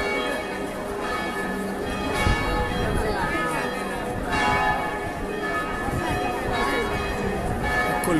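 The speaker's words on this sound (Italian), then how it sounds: "Campane a festa per la Madonna del Carmelo." Church bells ring out in a festive peal for a Madonna del Carmelo procession in Manfredonia, overlapping metallic tones clanging continuously over a murmuring crowd with voices chatting nearby.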